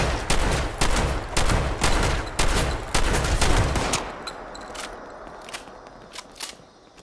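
Shotgun blasts in Fallout 76 Wastelanders: a quick run of sharp, loud shots in close succession over a few seconds, then a quieter stretch with a few scattered faint clicks and thuds.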